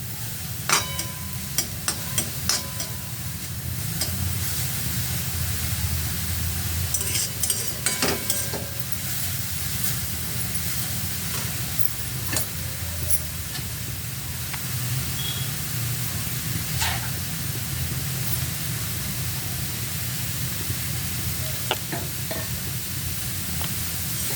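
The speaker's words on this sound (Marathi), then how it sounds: "एक मिनिटभर असा आपण मुळा भाजून घेऊया कढईत कोरड्यात" Radish dry-roasting in a kadhai without oil, stirred with a spatula: a continuous soft hiss and sizzle overlaid with repeated scraping and occasional metallic clinks, close and steady for the whole stretch, no talking.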